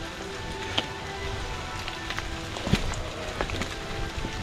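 Rain falls steadily on a wet mountain trail descending from Gunung Halimun toward Ciputri, a continuous close hiss with a few sharper drips and faint footstep-like knocks.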